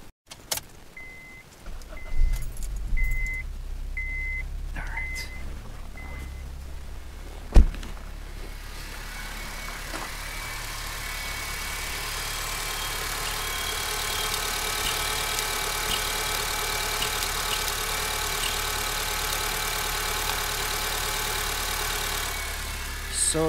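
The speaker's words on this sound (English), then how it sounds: "So let's start the car." A Honda Civic with a turbocharged R18 engine starts up after a few key jangles and a sharp click, then settles into a steady, close, continuous idle with no talking.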